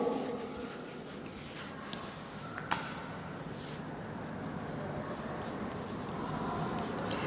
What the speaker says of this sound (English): let me write all these things on the board